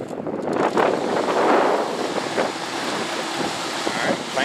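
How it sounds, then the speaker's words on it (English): A Coleman heat pump's fan runs steadily as a broad, airy rush, moderately loud and continuous throughout, with some faint background sound alongside. "Alright, fan came on."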